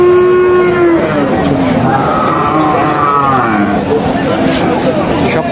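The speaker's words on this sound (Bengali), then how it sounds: "সব ফ্রিজিয়ান যেগুলো গরু দেখা যাচ্ছে সবগুলো" Friesian cows at a busy cattle market moo repeatedly, long sliding lows overlapping one another, loud and near, with crowd chatter and voices mixed in underneath.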